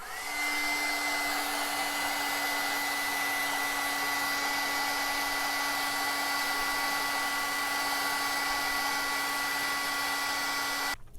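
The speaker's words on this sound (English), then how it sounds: "I'm going to hit this with the heat tool so I can try to set this ink really quick" Heat tool blowing steadily to set ink on a paper card, a continuous loud whirring hiss with a steady hum, running alone for about eleven seconds before cutting off.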